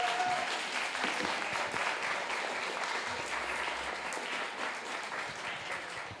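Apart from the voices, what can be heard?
audience applause for competitors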